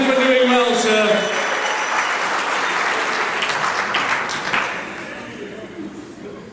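A round of applause fills an awards ceremony hall at the SA Professional Services Awards, with loud dense clapping and a few shouts that gradually thin out and fade.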